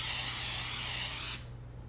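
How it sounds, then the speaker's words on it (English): Olive oil spray hisses onto a bread pan in one steady, close burst of about a second and a half, then cuts off sharply, leaving a quiet room. "It's again gonna pick olive oil and just spray it"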